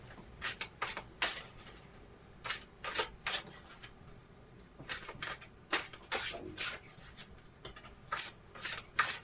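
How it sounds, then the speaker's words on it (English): Tarot cards are shuffled by hand nearby in quick, crisp riffling bursts that come in irregular clusters, with soft rustling between them and no talking. "First, I need to shuffle a little bit."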